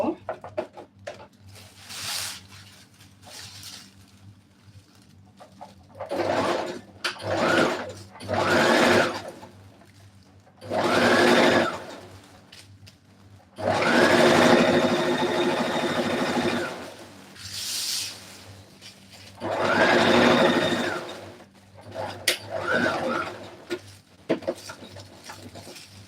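A sewing machine stitches a short butterfly bubu dress in a series of buzzing bursts of a few seconds each, separated by pauses, with some quiet talk between runs.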